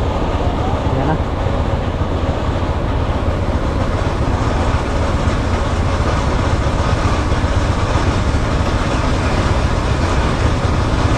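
A Skygo motorcycle engine runs close by with a loud, steady, rough rumble that holds without a break throughout.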